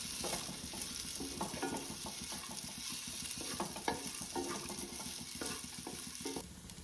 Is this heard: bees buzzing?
no